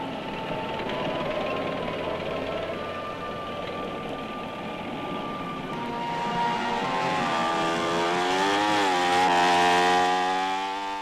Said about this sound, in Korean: 나무를 잘라내는 체이소우의 소리